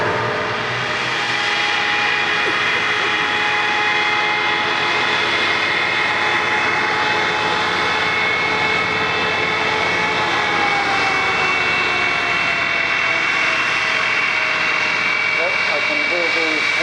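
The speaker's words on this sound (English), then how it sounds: "I can hear the whine of the comet's engines, or at least one of them" A de Havilland Comet jet airliner runs its engines at a Cold War jets show at Bruntingthorpe, a steady high whine with a broad roar underneath, loud and sustained throughout with no break.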